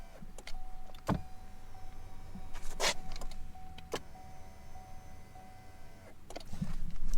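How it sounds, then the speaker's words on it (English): Electric power seat motor in a Camaro moving the front of the seat up and down, a steady low whir running in stretches with faint clicks and thumps marking each start and stop, close and fairly quiet. "So you can see right here how the front of the seat goes up and down."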